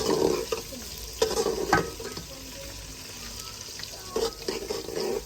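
Chillies sizzle in hot ghee as a spoon scrapes and knocks against the pan in bursts of stirring, with quieter frying between the strokes.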